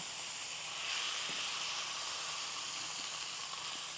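Meat browning in a hot pan gives off a steady, close sizzle, a constant hissing fry with a few faint ticks and no talk over it.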